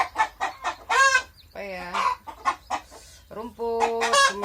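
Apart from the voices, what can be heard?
chickens clucking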